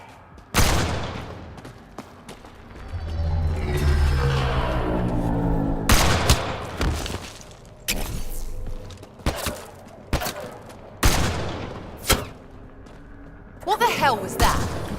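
Firefight gunfire from the video game Mass Effect Andromeda: repeated loud bursts and single shots in an irregular rhythm across the clip, with an explosive boom partway through and voices talking between the shots.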